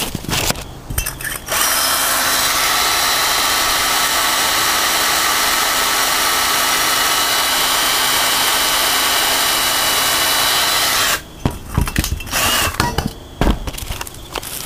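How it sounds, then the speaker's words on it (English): A power drill whirs loudly and steadily for about ten seconds while turning an OHV engine valve to lap it against its seat in the cylinder head, then stops, leaving clicks and handling noises close by. "I just pull against the valve tightly in the head and turn the drill around for a while"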